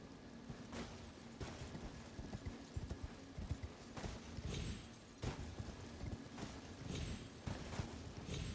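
Horse hooves in the video game Elden Ring clop in a steady, rhythmic gallop over a dense, rumbling game soundscape, loud and close throughout.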